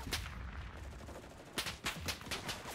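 Semi-automatic rifle shots in the World War II shooter Enlisted, set in a desert battle: a few distinct sharp reports in quick succession, loudest near the end, over constant combat noise.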